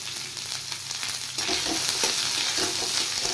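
Two large chopped onions sizzle in a pan of oil with garlic already fried in it, a steady close crackle that swells louder partway through as the onions are stirred.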